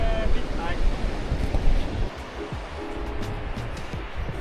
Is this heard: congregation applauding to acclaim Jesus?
no